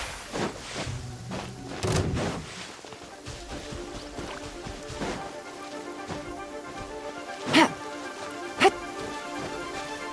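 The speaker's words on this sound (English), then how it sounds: "It's raining again?" Steady rainfall in Genshin Impact, a constant hiss of drops under game music, broken by a few dull thumps and two sharp bright hits near the end.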